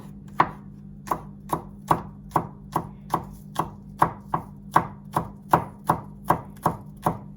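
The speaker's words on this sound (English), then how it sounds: "all I want to do is slice it so you get these little discs" A knife slices a spring onion into thin discs on a chopping board, with about eighteen sharp, evenly spaced knocks in a steady rhythm, close and clear, with no voices.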